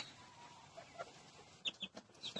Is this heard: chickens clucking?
yes